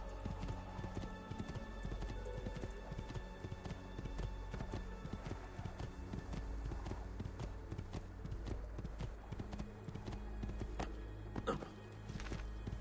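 Dense, continuous clip-clop of horse hooves on a street in Assassin's Creed II, a fast steady patter running throughout at low overall level, with faint background ambience and no clear talk.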